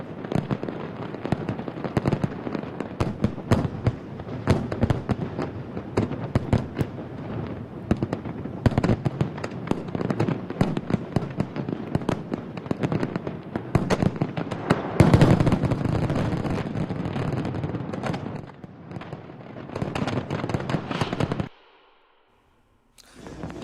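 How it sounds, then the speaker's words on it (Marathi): New Year fireworks over Bangkok, a dense, continuous crackle of bursts and pops for about twenty seconds, heard from a distance. The barrage fades into near silence at the end. "फटाक्यांची आतषबाजी करत"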